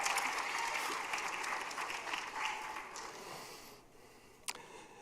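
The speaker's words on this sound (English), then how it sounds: "All right, a round of applause for Carlos and Princeton Tuxedo." A school auditorium audience at a mock pageant applauds in a steady wash of clapping that slowly fades, with a camera shutter click near the end.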